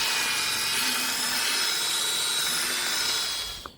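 Continuous close, steady sanding hiss as a cloudy, oxidized plastic car headlight is abraded flat, holding even loudness before easing off at the very end.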